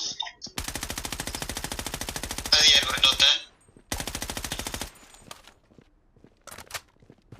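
Rapid automatic gunfire in the video game Blood Strike, with two long sustained bursts separated by a short gap and a few scattered shots afterward, loud and close, with a voice briefly in between.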